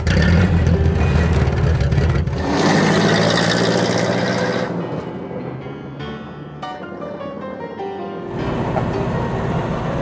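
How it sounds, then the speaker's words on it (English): A 1930 Cadillac V16 Madam X Coupe engine runs steadily and fairly loud, with the sound shifting and thinning partway through before the full running note returns near the end. "1930 Cadillac V16 Madam X Coupe, and it runs like a top."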